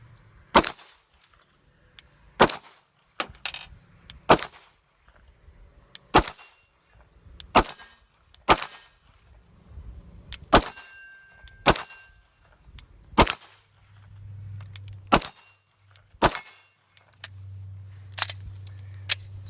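Glock pistol fitted with a drop-in trigger firing about a dozen loud, sharp shots at an outdoor range, spaced roughly one to two seconds apart, each crack followed by a short ringing tail.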